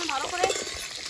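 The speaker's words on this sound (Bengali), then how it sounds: "আলু ভাজতে হবে প্রথমে ভালো করে।" Potatoes fry in a pan for biryani with a close sizzle and a quick stir, including a brief metallic clink from the spatula.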